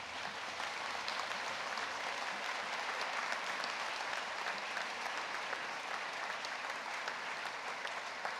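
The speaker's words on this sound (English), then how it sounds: "Please stand up and give them a big round of applause." Sustained applause from a large audience at a university graduation ceremony, steady dense clapping throughout at even loudness with no talk over it.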